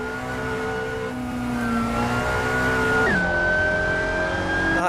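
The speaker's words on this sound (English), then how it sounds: "The engine sound is like, what is it? It's not a BMW engine. It sounds like it's a spaceship" Car engine in the Assetto Corsa racing game holding a steady whining drone, then pitch dropping briefly as it shifts before climbing again, loud and continuous.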